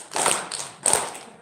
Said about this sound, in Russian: я хлопаю сильнее, чем вы.